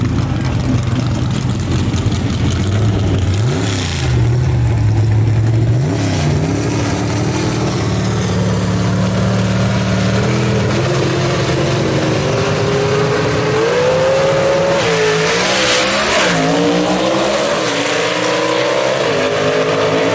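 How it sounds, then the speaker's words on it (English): Drag race cars, among them a '55 Chevy, roar loud and close at Mooresville Dragway, one engine revving and shifting up steadily while another runs alongside, a continuous full-throttle blast that holds for the whole stretch. "the Dirt Man, the number 8 qualifier in his 55 Chevy in the quick time performance lane"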